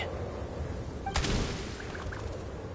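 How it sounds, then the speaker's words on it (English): A single gunshot in a video game cracks out once, moderately loud against a quiet ambient background, with a short fading tail. "There's the gunshot. It's go time."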